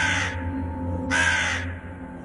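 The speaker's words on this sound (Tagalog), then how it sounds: "Napatingala kami lahat nang marinig ang tunog ng uwak na yon." A crow caws in a forest, giving two loud, harsh calls about a second apart, each clear and close with nothing else around it.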